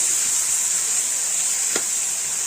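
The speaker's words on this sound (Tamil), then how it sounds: "இது நல்லா வதங்கணும். நம்ம இன்னும் கூட கொஞ்சம் வெங்காயம் போட்டுக்கலாம்." Onions sautéing in a pan for Madurai-style fish curry, a steady soft sizzle with a brief clink of a utensil partway through, no talking.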